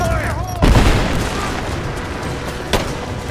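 Gunfire in the Rise of the Tomb Raider video game arrives as a heavy boom with a burst of shots and a second sharp crack soon after, loud and close, over game voices calling out orders.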